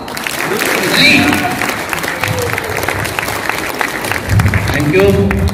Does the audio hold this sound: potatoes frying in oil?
no